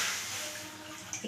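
Water pours into a kadai, a deep frying pan, while cooking sujir pakora, a steady close hiss of liquid splashing against metal that fades slightly and ends with a couple of small splashes.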